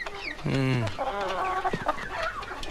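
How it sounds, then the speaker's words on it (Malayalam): Loud, close chicken squawks and clucks from birds carried inside a vehicle, agitated and overlapping, with a brief thump in the middle. "കോഴിയാ സാർ, നല്ല വയറ്റിലകൻ കോഴി."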